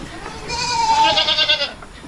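Close, loud bleat from a black goat on a farm: one sustained wavering cry rising and fading over about a second, alone without talk.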